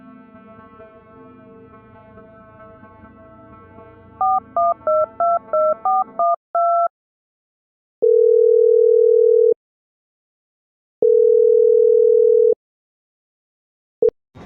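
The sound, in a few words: telephone dial tone while calling a friend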